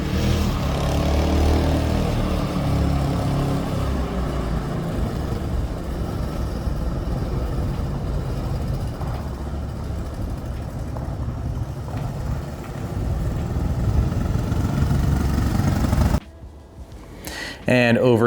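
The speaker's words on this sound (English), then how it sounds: "Now here we have the Honda XL185s we recently revived." Recently revived Honda XL185 motorcycles run in a shop, a steady loud engine drone lasting most of the time before cutting to a brief quieter moment and then resuming.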